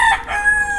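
A gamecock rooster gives a brief, loud, close crowing call that trails off within a second.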